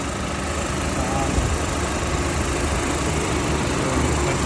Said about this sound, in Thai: เราให้ฟังแบบเสียงเครื่องพร้อมกับเปิดแอร์ด้วยนะครับ